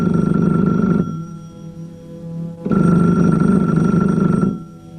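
An old-style telephone bell rings in two loud, sustained bursts with a pause between, a radio play sound effect set in a lonely room where the phone seems hidden inside a guitar.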